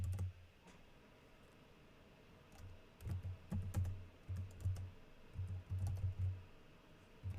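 Computer keyboard typing in short bursts of quick clicks, starting quiet and growing busier after a few seconds, with irregular pauses between runs of keystrokes; no talking.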